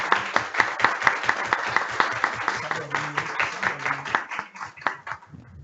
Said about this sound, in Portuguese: E eu proponho uma salva de palmas para os colegas.